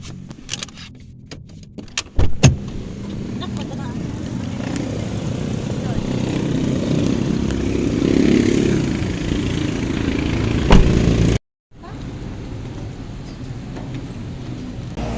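A car arrives to collect students after school and idles close by, with a steady engine hum and scattered rattles and clicks, a sharp knock near the start and a brief cutout near the end; voices are present.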